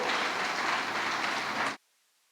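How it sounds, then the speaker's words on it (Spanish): Church congregation giving a loud, dense burst of applause that holds steady, then cuts off abruptly into near silence. "Démosle fuerte aplauso al Señor."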